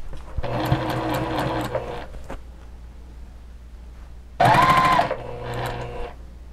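A sewing machine stitches fabric while a sewing machine cover is being made, running in two bursts of steady mechanical whirring with a short pause between them, close and loud, with no talk.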